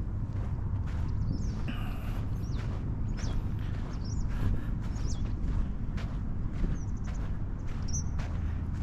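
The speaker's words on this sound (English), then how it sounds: "Can you guys hear the birds in the background?" Small birds chirp near Shinji Lake in Matsue, Japan, with short, faint calls repeating every second or so at a distance over a low outdoor rumble and occasional footsteps.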